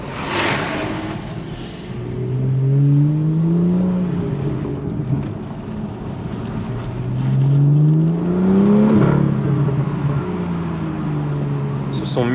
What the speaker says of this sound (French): On entend le turbo, le son, c'est vraiment magnifique, ce 6 cylindres.